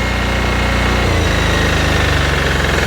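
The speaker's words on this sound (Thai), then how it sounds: "นี่ขนาดเดินเบานะ เดินเบายังแรงๆเลยนะครับ" A diesel engine drives a high-pressure spray pump at idle, a loud, steady, close chugging rumble with a fast, even knock and no voices.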